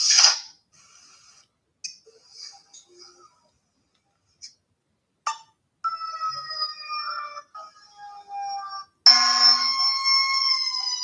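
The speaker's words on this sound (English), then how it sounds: "I don't know if y'all heard the sirens." Sirens wail in intermittent tonal bursts that grow louder and steadier toward the end, with stretches of near silence between them.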